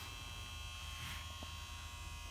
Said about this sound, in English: We'll just grind it all clean